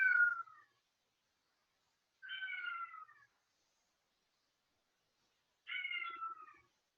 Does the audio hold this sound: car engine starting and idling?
no